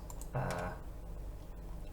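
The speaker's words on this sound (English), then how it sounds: "just start typing some letters and see what we get" Fingers tap out letters on a computer keyboard in a short, quiet burst of uneven clicking keystrokes over a low background hum.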